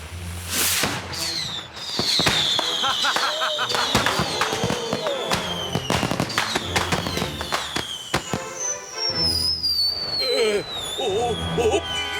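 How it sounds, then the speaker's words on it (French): Cartoon fireworks for a reception at the governor's palace crackle and boom in rapid bursts, with whistling rockets rising over a busy, loud background and scattered crowd sounds. "Ces feux d'artifice sont pour une réception au palais du gouverneur!"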